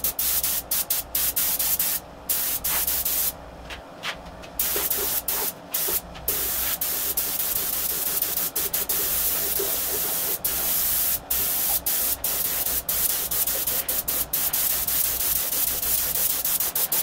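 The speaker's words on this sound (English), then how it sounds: "let's pop some clear coat on it now" A spray gun applies clear coat to sand-blasted Fiat Punto GT subframes, giving a loud continuous hiss with short pauses between passes, close to the microphone and with no voices.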